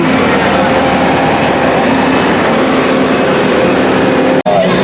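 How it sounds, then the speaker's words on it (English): A loud, steady rumble and rattle of an amusement park train at Valleyfair in Shakopee, Minnesota rolls in close by, with faint squeals and clatter over a continuous noisy wash. "Train's coming in."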